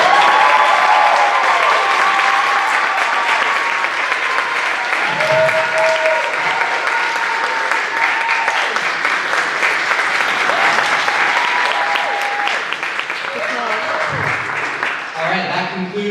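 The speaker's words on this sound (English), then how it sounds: "you can all applaud for me as I walk off stage" Loud, sustained applause from a theatre audience as a comedian walks off stage at the end of a stand-up performance, a dense continuous roar of clapping with some crowd noise and a voice briefly over it.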